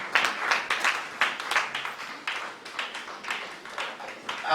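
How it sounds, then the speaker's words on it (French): A church congregation at a Pentecost service claps and applauds, a dense, uneven patter of many hands at moderate volume that rises and falls over several seconds. "Nous acclamons très fort pour la parole de Dieu"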